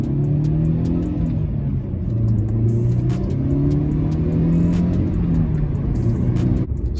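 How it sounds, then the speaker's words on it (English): A 2004 Mercedes C230 Kompressor with a supercharged engine and manual gearbox driving along, its engine humming and rising and falling in pitch through the gears over steady road rumble, heard from inside without talk. "So I already told you guys this is a 2004 Mercedes C230 compressor, so it is supercharged and it pushes out 180 horsepower to the rear wheels."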